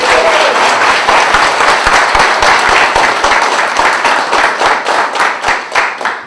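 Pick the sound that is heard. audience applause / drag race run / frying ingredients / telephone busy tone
audience applause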